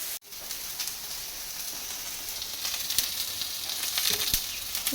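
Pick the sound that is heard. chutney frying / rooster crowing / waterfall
chutney frying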